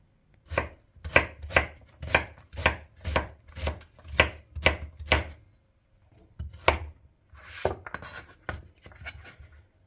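A knife chops vegetables on a cutting board, such as carrot being cut into cubes: a quick, even run of about a dozen loud, close thuds, a short pause, then a few more uneven chops.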